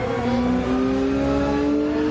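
A race car engine in the Gran Turismo 7 racing game drones loud and steady, its pitch slowly rising as the car accelerates through a gear, with no talking over it.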